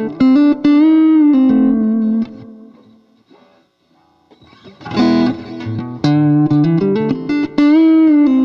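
Electric guitar played through Universal Audio UAfx reverb and delay pedals, loud sustained notes and chords with lush trailing repeats, a quieter decaying gap midway, then a busier run of plucked notes ringing out.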